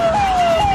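An ambulance siren wails in a brief, steady electronic tone that rises slightly midway, loud and close against road noise.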